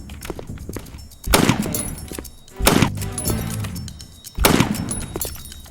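Gunfire in the shooting game Time Shooter 2 comes as three loud, sharp bursts, each crashing in and ringing briefly before tailing off, spaced roughly a second and a half apart.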